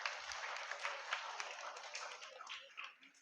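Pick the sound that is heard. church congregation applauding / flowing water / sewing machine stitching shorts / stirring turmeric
church congregation applauding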